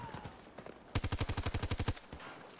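A rapid automatic burst of about fifteen evenly spaced shots in a Battlefield video game, loud and punchy, preceded by quieter scattered firing and background game noise.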